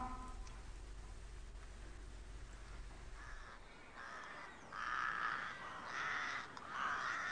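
Crows cawing at daybreak outdoors, several harsh calls repeating in the second half, moderately near, following a quieter stretch with a low rumble and no voices.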